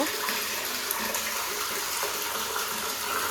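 Water gushes steadily from a tap into a filling container, a continuous bright hiss and splash with no talking.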